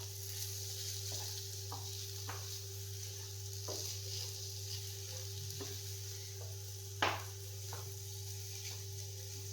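An iftar dish stir-fries in a pan with a steady, even sizzle, broken by intermittent scraping and stirring knocks from a utensil, including one sharper clack near the end.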